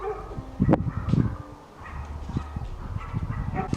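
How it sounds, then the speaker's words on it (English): Dogs bark and yip intermittently at a distance, a few scattered barks over a quiet outdoor background. "these dogs barking in the distance are killing my vibe"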